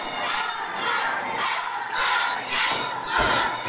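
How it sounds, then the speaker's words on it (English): A wrestling crowd at an underground indoor show cheers and shouts in a steady roar. It swells in waves, with louder bursts near the end, and no clear voice stands out. "The crowd's really getting behind Ostentatious here."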